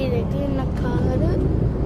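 Vehicles pass on the road behind during a drive from Godavarikhani to Mancherial, a brief rumbling traffic swell heard under a person talking.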